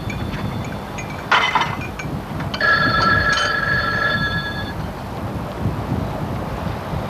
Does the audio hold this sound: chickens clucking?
no